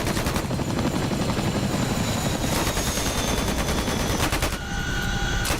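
A helicopter's rear gunner fires a machine gun in the combat flight simulator DCS World, a steady rapid stream of shots over the loud, continuous chop and whine of the rotor and engine, with a brief break near the end.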